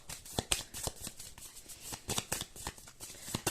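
Close, quiet riffling of a deck of cards shuffled for a card reading, a rapid series of crisp flicking bursts in an uneven rhythm, with no voice.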